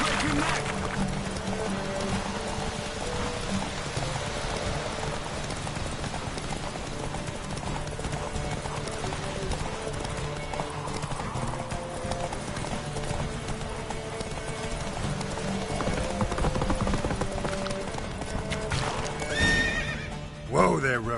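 Roach the horse in The Witcher 3 on PS5, hooves clip-clopping in a steady galloping rhythm with neighing and game music underneath, and a voice speaking briefly near the end.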